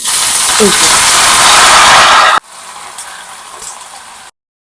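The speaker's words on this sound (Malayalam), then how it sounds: "നല്ല കടുകും ഉലുവയും കറിവേപ്പിലയും വറ്റൽമുളകൊക്കെ ആയിട്ട് നമ്മൾ പൊട്ടിച്ചത് മാമ്പഴ പുളിശ്ശേരിയിലേക്ക് നമ്മൾ ആഡ് ചെയ്യാണ്" Hot tempering of mustard seeds, fenugreek, curry leaves and dried red chillies hits mango pulissery curry with a loud, harsh sizzling hiss, then drops abruptly to a softer, steady sizzle before cutting to silence.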